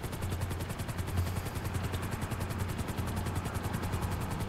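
A helicopter in GTA Online during a submarine raid gives a steady, dense rotor chop throughout, with fast rhythmic pulsing beneath a continuous loud wash of engine noise.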